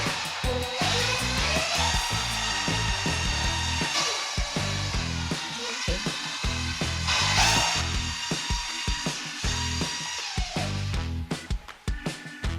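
A power mixer churns a two-part metallic floor coating, parts A and B combined at 2.3 to 1 by volume. A loud, close, steady motor whir runs throughout with shifting pitch and rattling, easing and stuttering near the end.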